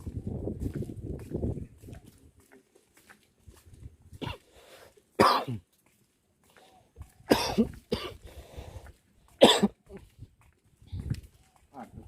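A person coughs several times in separate bursts, with throat clearing between them, amid quiet pauses and faint outdoor background noise at Taman Sari, Yogyakarta.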